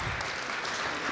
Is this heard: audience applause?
yes